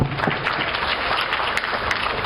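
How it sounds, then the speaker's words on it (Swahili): An audience at the opening of the Sabasaba trade fair claps loudly and steadily, a dense, continuous patter of many hands. "Naomba makofi mengi sana"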